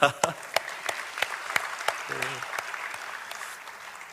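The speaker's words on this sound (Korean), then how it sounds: "남성들이 한번 박수 쳐줍시다." Scattered claps ring out in a church hall during a sermon, sharp separate hits that come in a loose uneven rhythm rather than a full ovation. A brief voice sounds partway through.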